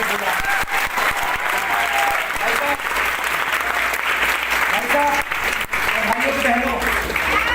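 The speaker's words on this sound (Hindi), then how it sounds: "तो जोरदार क्लैपिंग चाहूंगा उन बात में" A seminar audience applauds loudly and continuously, a dense close clatter of many hands with a few brief dips, and voices mixed into the clapping.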